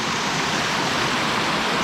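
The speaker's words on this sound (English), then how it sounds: "Got a nice little waterfall going here." A small waterfall in Glacier National Park rushes steadily close by, a dense, even hiss of falling water with no breaks or other sounds.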